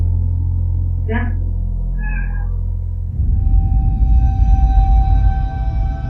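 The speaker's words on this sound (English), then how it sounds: "Even the cat appears to be scared as it quickly jumps off the bed after sensing something wrong." A house cat gives two short meows a second apart on a bed in a dark room, followed by a low rumbling background with a faint steady tone.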